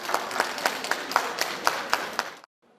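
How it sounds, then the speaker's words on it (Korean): Crowd applause breaks out at an airport arrival gate as detained workers emerge, bright overlapping clapping with distinct close claps, then cutting off abruptly near the end. "박수갈채가 쏟아집니다"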